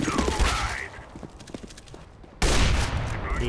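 Gunfire in CS:GO sprayed at a wall: bursts of rapid shots, loud and close, with a brief lull before a dense, louder stretch of firing at the end.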